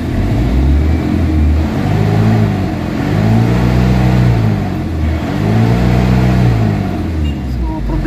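A car engine with low power and loose internal parts, revved by a mechanic in three long rising and falling swells, loud and close, with a steady idle beneath.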